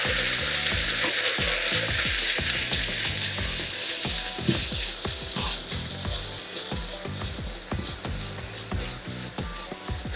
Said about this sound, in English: fry the beef with some more vegetable oil